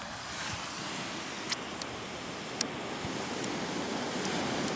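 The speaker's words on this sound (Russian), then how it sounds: "Тихий океан." Pacific Ocean surf washing against the shore in Singapore, a steady broadband wash with a couple of brief splashy peaks, fairly near and unbroken throughout.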